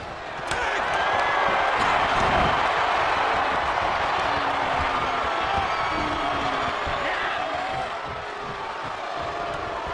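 A wrestling arena crowd in WWE 2K24 roars steadily for the full stretch with dense cheering and applause, loud and continuous, easing slightly near the end.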